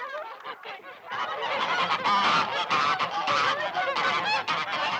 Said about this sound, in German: Fräulein Ulrike treibt ihre schnatternde Herde in den Stall, ins Haus.